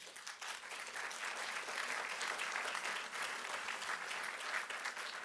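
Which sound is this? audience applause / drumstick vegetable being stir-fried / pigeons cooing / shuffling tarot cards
audience applause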